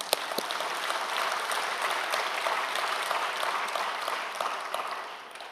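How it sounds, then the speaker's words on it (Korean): A church congregation claps in a dense, sustained round of applause that holds steady and then tapers off at the end. "하나님의 영광의 박수를 돌리겠습니다"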